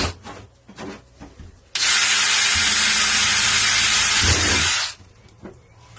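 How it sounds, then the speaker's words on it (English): A tool bores drainage holes into the bottom of a plant pot. A loud, continuous grinding hiss lasts about three seconds, with quieter handling clicks and knocks before and after. "I'm going to punch 3 holes into the bottom"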